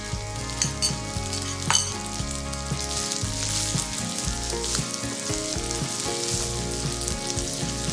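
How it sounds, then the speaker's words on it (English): Cooked long grain wild rice being stir-fried with mushrooms in olive oil, a steady close sizzle with scraping stirs throughout, loud and continuous with no voices. "we're just gonna kind of stir fry it in with our mushrooms"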